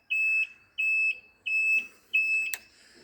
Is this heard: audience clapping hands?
no